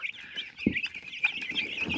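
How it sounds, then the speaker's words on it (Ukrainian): High, constant peeping of crested chicks fills the clip, with a few low clucks from R3A cross hens mixed in, close and fairly loud. "Тут у мене чубаті курчатка і також та сама курочка того самого кросу R3A."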